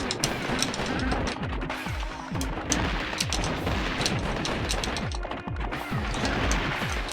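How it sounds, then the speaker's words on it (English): Missiles and regular shots fire in the video game Gato Roboto: a dense, continuous stream of rapid blaster pops and heavier thuds, loud and unbroken throughout, with no talking. "Missiles do like 4 damage, I think, versus regular shots do 1."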